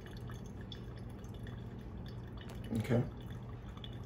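Water drips and trickles through a pour-over coffee brewer over a faint steady background hum, with a brief louder splash of liquid near the end and a single short spoken word.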